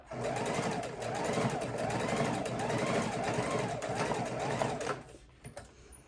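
A sewing machine stitches the seams of an ergonomic bone pillow, running in a loud, steady whirring rhythm up close for about five seconds before stopping, followed by faint handling noise.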